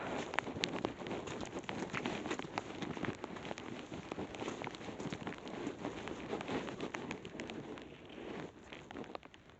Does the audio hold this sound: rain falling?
yes